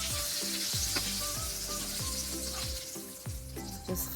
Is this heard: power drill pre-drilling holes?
no